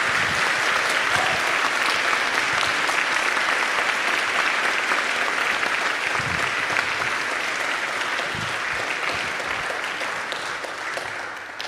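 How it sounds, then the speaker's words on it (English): Loud, sustained applause from a room full of people at a finance debate event, dense continuous clapping that stays strong for over ten seconds before easing slightly at the end. "I think a big round of applause for everyone."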